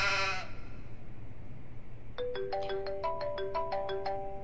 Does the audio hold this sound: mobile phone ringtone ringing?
yes